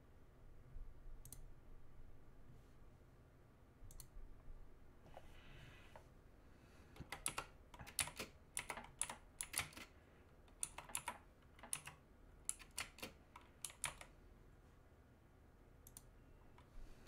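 Clicky keystrokes on a loud mechanical keyboard in bursts of rapid typing with short pauses, close and crisp over a quiet background.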